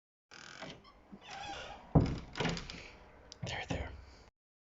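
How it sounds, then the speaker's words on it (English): A creaky indoor door in a home, producing a few sharp knocks and scraping creaks in short bursts, mixed with someone talking quietly nearby. "god damn that door's annoying"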